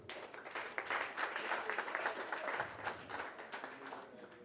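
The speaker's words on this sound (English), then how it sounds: "A round of applause for Mr. Ceppi." An audience claps for an honoree at a landscape architecture scholarship ceremony, steady applause heard faintly at a distance and fading slightly toward the end.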